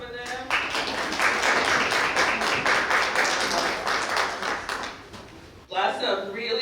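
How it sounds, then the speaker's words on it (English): Audience applause for conference panelists and a moderator, dense sustained clapping from a large crowd lasting about five seconds, then cutting off abruptly as a voice speaks. "Another round of applause for them."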